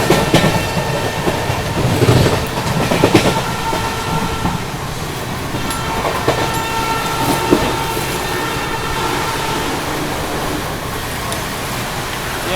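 A nonstop Jaipur–Mumbai special train runs at speed through heavy rain, making a continuous loud roar of wheels and rushing water with faint clickety-clack beats.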